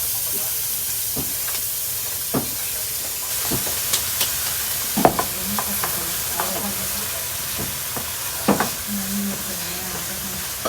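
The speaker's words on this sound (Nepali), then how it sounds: "तेललाई चाहिँ हल्का गरम गरेपछि चाहिँ तपाईँहरूले चाहिँ अनियन हल्का यसलाई चाहिँ रातो गरेर भुट्नुपर्छ।" Onions frying in lightly heated oil give a steady soft sizzle, close by, broken by scattered sharp clicks and scrapes of stirring throughout, with no one speaking.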